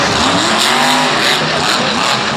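The Mohawk Warrior monster truck at MetLife Stadium in 2015 roars at full throttle, its engine a loud, rough, sustained blare that barely changes over the moment.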